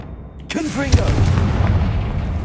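A Confringo fire spell blast in Hogwarts Legacy hits hard and sudden, then rolls into a loud booming, crackling rumble that holds to the end, with game voices and effects mixed in.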